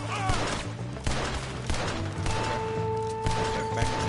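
Gunfire in the video game Red Dead Redemption 2: a series of sharp shots and volleys under a busy game soundscape, some near and some more distant.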